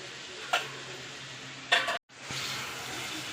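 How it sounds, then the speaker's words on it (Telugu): Drumstick and tomato curry simmering in a pan, a soft steady sizzle with a couple of brief utensil clicks and a short gap, close and quiet with no talking. "ఇది కూడాను ఒక నిమిషం మగ్గనిద్దాము"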